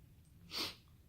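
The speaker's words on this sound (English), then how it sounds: "It's the reason I'm sniffling." A single short nasal sniff or snort, fairly close, rising and fading within about a quarter second against a quiet background.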